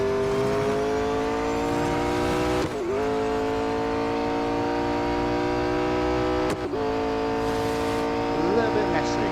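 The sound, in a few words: race car braking and accelerating in Real Racing 3 video game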